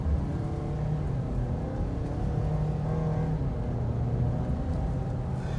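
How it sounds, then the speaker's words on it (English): A 2021 Ford Edge SEL in sport mode pulls away from a start on light throttle, a steady, moderately loud engine drone with a rising whir heard from inside the cabin, with no talking. "we'll see how it takes off, just a little bit of throttle"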